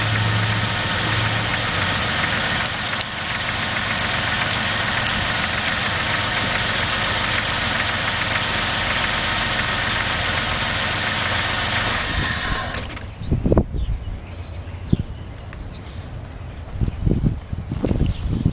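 A car engine idles steadily and loudly just after being started following a spark plug change, then cuts off around the thirteenth second, leaving quieter scattered clunks and handling sounds.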